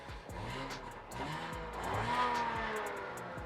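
An Audi RS5 with a reported fault idles and is blipped, its engine tone rising and falling in a few quick sweeps, heard close up with no talking.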